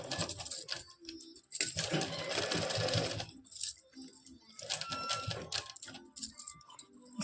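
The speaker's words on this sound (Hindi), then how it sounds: "अब हमें यहाँ पर इस तरह से प्लेन खींच करके बीच में एक सिलाई लगा देनी है" A sewing machine stitches elastic down the middle of palazzo pants in bursts of rapid mechanical whirring, with short pauses between runs, close and without talk.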